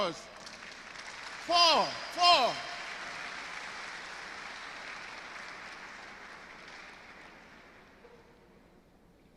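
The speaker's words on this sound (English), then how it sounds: "I deserve a better round of applause." Applause from a convocation lecture audience rolls on in the background, moderately loud and fading toward the end, while a speaker's voice cuts in briefly early on.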